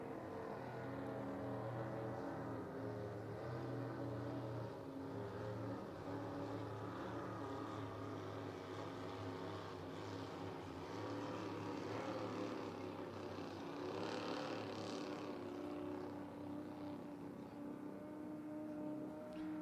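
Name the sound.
racing powerboat engines, one a small block Chevrolet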